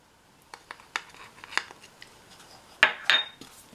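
Kitchen clatter for vintage Irish soda bread, with light taps and clinks of utensils against a bowl and a sharper cracking knock as an egg goes into the mixed dry batter, close and irregular.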